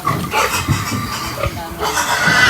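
Farm pigs grunting and oinking while being weighed, repeated close snorts and squeals over a noisy barn background with some human voices mixed in.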